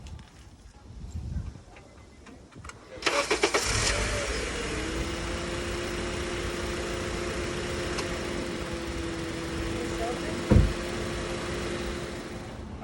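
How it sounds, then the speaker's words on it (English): An 8th-generation Honda Accord engine cranks and catches with a sudden start, then settles into a steady, moderately loud idle hum, with one brief thump partway through. "so now we're gonna go start the car"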